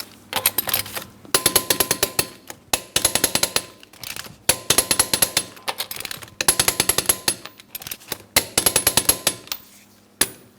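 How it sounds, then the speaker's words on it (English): Lug nuts on the rear wheel of a 2003-2007 Cadillac CTS are tightened to torque in a crisscross pattern, loud close bursts of rapid ratcheting clicks separated by short pauses, repeating about seven times with no speech. "let's torque these lug nuts to that 100 foot-pounds in a crisscross manner"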